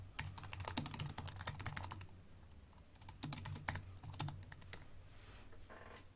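A computer keyboard clatters in close, rapid bursts of key presses with a short pause midway and softer taps at the end, while text is edited, with no talk.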